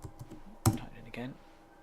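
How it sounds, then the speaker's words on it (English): A few quick clicks of a computer keyboard being typed on sound close but faint, with a louder single keystroke near the middle and talking around them. "Type it again."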